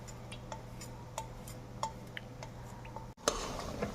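A spoon stirs a tapioca and water mixture in a pot for bubur gunting, making light, irregular clinks and ticks against the metal over a low, steady hum.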